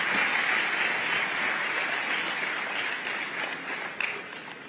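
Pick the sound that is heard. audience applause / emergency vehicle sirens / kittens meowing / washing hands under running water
audience applause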